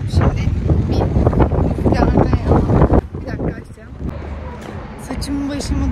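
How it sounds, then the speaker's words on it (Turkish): Strong wind in the streets of Balat buffets the microphone with loud, low rumbling gusts, easing slightly midway, while a person talks over it. "Saçımı başımı dağıttı rüzgar."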